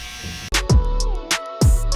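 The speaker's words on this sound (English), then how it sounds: "Is that the Babylon shaver?" A Babylon electric shaver buzzes at close range with a steady hum, broken by several sharp clicks and bursts as it is switched and moved during a barbershop competition.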